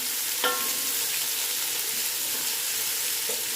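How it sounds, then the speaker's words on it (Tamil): Onions sautéing in a pot for vegetable brinji rice, an even, moderately loud hiss of frying that runs throughout, with a single clink of a utensil near the start and a faint knock near the end. "வெங்காயம் நல்லா வதங்கணும்."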